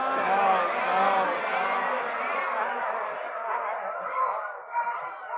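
Audience members in a group yoga session imitate a crow's caw, producing a dense, jumbled chorus of voices that swells and fades, ending in scattered calls and chatter.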